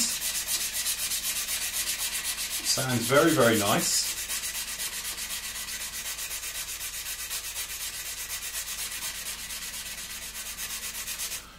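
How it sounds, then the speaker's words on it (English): Steady, rhythmic rubbing of a sanding stick on a hard scale-model surface, close and continuous, with a brief spoken remark early on. "we just come along with a little sanding stick here, and I'm just going to give it a rub"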